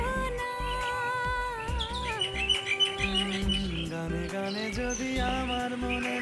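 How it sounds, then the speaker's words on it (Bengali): Birds chirp by a pond in a continuous, fairly loud mix of bright chirps and tonal calls that shift in pitch, with no voices. "পাখিদের কিচিরমিচির গান শুনতে শুনতে আমি যেন ঘুমিয়ে পড়ছিলাম।"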